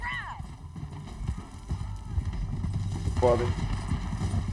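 Horse hooves clip-clopping at a gallop in Red Dead Redemption 2 while riding down a canyon, steady rapid hoofbeats under a brief spoken word and a whinny-like cry.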